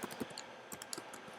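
A file name typed on a computer keyboard produces a quick, uneven burst of close, crisp key clicks, quiet and alone.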